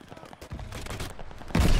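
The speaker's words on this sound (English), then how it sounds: "Where am I getting shot from?" Bursts of automatic gunfire in the shooter Call of Duty Vanguard, a loud rattling volley that swells near the end of the short stretch, with little else around it.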